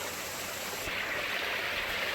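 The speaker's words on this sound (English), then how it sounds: "Little mini waterfalls." Small mini waterfalls on a mountain stream give a steady, soft, hissing rush of water, constant and unbroken, with no voices.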